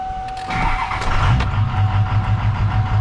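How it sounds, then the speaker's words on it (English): A 7.3 Powerstroke diesel truck engine cranks and fires up, settling into a loud, rough, rhythmic idle close by, with a steady electronic whine over it. "So I'm gonna start the truck here so we can see what everything looks like."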